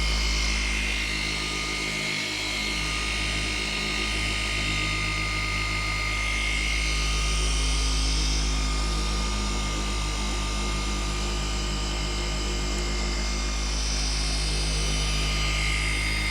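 A machine polisher runs continuously on car paint, a loud, steady whine and drone held close throughout with slight dips in pitch as pressure changes, no talk over it.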